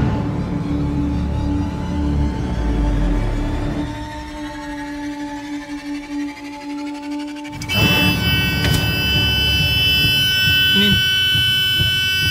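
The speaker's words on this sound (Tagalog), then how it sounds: "Fire alarm ata yung sasakyan." A parked vehicle's alarm blares with a steady fire-alarm-like electronic tone starting partway through, loud and continuous after an earlier stretch of background noise and voices.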